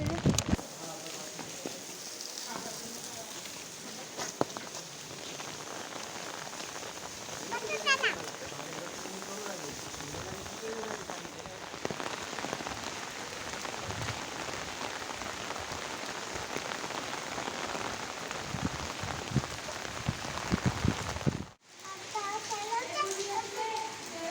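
Heavy rain pours down steadily on a monsoon day, a dense hiss with patter on surfaces, while children's voices and talk come and go over it before a brief cut near the end.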